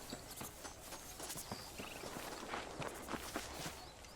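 Horse hooves clip-clop at a walking pace in the video game Red Dead Redemption, a fairly quick, uneven run of light hoof strikes over faint background ambience, with no talking.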